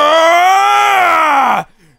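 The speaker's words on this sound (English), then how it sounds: "Beerus starts screaming." Beerus, the god of destruction, screaming in an anime scene: one loud, sustained voiced scream lasting about a second and a half that slides slightly downward and cuts off abruptly, leaving a brief quiet tail.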